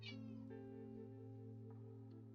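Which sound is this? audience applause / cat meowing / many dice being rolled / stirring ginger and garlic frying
cat meowing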